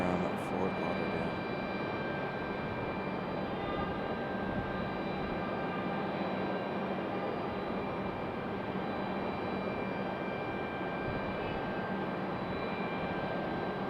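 A passenger airplane arriving from Fort Lauderdale at Raleigh-Durham International Airport, its engines giving a steady, loud broadband roar throughout with faint tonal whine above, continuous and unbroken.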